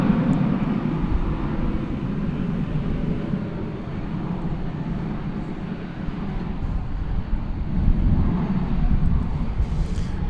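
An American Airlines airliner, flight 1273, sits on runway 18 Left at DFW Airport. Its engines make a steady, broad rumble that swells slightly toward the end, with some wind buffeting the microphone.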